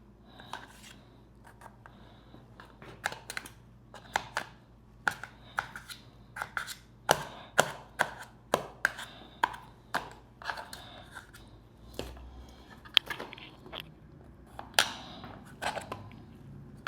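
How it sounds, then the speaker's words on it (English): A knife chops pickles on a cutting board in a makeshift prison kitchen, a series of sharp, close taps that come in uneven bursts, some faster runs and a few pauses between strokes. "So right now I'm just chopping up my pickles."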